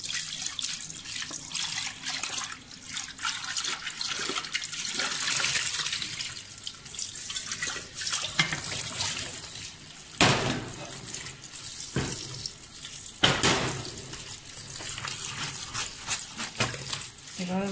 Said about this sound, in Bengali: ঠান্ডা পানি দিয়ে ধুয়ে নেব